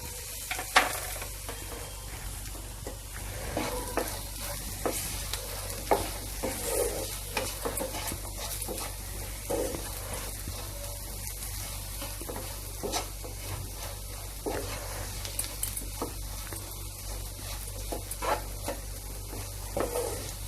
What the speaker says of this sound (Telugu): ఇప్పుడు కరివేపాకు వేసుకోవాలి